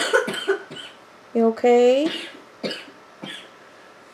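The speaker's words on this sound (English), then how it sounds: "It's like you're coughing up a lung." A person coughs hard and wetly in a close indoor setting, with several raspy bursts followed by a long strained rattling cough, and someone nearby speaks briefly in between.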